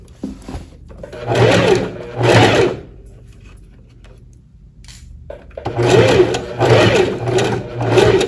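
Domestic sewing machine stitching the front neckline finish of a high-neck blouse, running in two loud bursts, a pause with faint low hum, then two longer steady runs.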